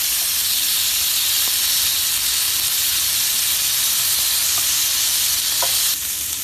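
Large tiger shrimp sizzle steadily on a grill, a loud continuous hiss close by with a few faint ticks, easing slightly near the end.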